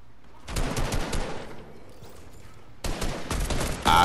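Rapid bursts of automatic gunfire from a Fortnite battle royale match, loud and dense, with sustained volleys in the first half, a brief quieter gap, then another heavy burst near the end.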